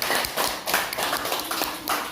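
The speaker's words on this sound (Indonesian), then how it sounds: "Tepuk tangan buat kita semua." Elementary school pupils clap their hands together in class, a quick, uneven burst of many sharp slaps close by, with no talk over it.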